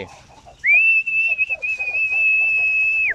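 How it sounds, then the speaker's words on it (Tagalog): A single long, steady, high-pitched whistle blown loudly for a couple of seconds to call pigeons, with faint background chatter underneath. "Ngayon gagamitin natin ng sipol ulit yan."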